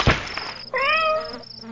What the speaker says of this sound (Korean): 고양이 소리를 내네